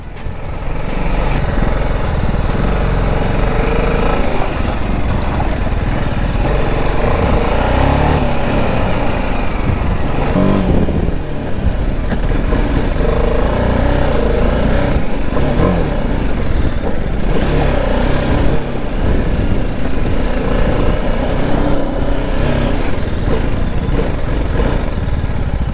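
A motorcycle engine revs hard while the bike is stuck and slipping in mud on a foggy off-road trail, a loud, rough, continuous roar that rises and falls with throttle bursts for the whole stretch.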